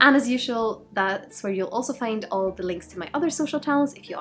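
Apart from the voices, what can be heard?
No distinct noise like a dog, phone or traffic.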